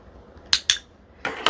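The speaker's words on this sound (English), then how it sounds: "I click the clicker and give him a treat" A handheld pet training clicker used while rewarding a sun conure, giving two sharp close clicks followed by a pause, then another louder pair of snaps.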